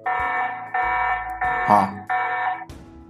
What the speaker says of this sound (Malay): jikalau ada apa-apa movement ketika waktu ini, dia akan membunyikan alarm